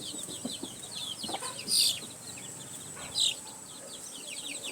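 Young chicks of a native backyard chicken flock peep and cluck in short, high chirps, with two louder bursts standing out close by against a quiet background.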